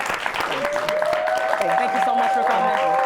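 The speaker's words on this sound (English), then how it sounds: "Let's clap for Stacey." Studio audience applause for a guest named Stacey at the close of a live talk-show season finale, dense steady clapping mixed with cheers and a sustained tone while a voice speaks over it.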